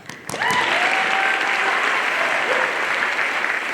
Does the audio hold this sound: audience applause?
yes